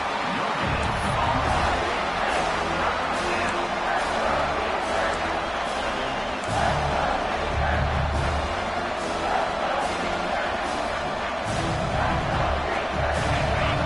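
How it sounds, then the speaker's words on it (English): Football stadium crowd at a Penn State at Georgia game roaring for the defense during a red zone stand, a dense sustained cheer with rhythmic surges, under an announcer's voice. "And here comes the noise. This crowd is trying to inspire this defense to make a big red zone stop."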